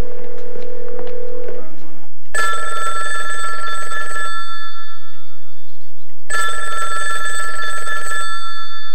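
Telephone ringing loudly and close in two long electronic bursts of about two seconds each, separated by a silent gap, with a brief tone and faint rustling before the first ring.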